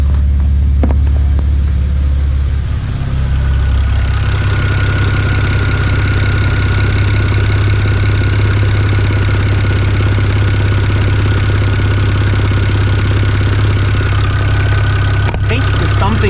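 A BMW 335i with the N54 engine, fitted with an exhaust leak, idles steadily and loudly up close, its deep continuous drone broken by a ticking, puffing rasp throughout; it starts just before and is heard alone without talk.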